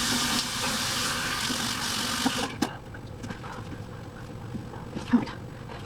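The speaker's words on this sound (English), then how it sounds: "I'm just going to rinse my face" Water splashes at a bathroom sink for the first two and a half seconds, a steady close rush that stops abruptly, leaving quiet room tone with a few small drips and clicks.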